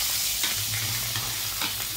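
Steady, close sizzle of kanduli fish frying in a pan, continuous and loud throughout with faint scraping touches and no talk.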